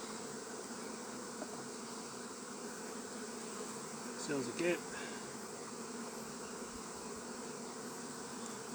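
Honey bees on a nectar flow hum steadily around a hive frame with bare foundation, a soft continuous insect buzz with brief louder passes near the middle and a few quiet spoken words.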